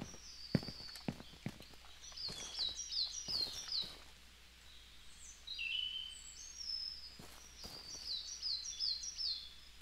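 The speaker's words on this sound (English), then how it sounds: "I hear birds, but I don't see them." Bird chirps and tweets in the Bad Way demo video game come in quick clustered bursts of rapid notes, repeating over soft footsteps with no speech.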